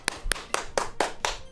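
Six sharp hand claps in a steady rhythm, close and loud, with no other sounds around them, given as applause after catching a shiny Pokémon.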